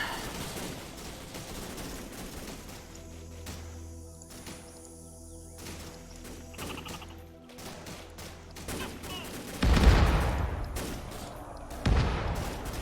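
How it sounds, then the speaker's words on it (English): Danger-close artillery in an Arma 3 jungle battle set in Vietnam: scattered gunfire crackles in the background, then two heavy, close blasts boom out several seconds apart. "Put some artillery danger close behind them."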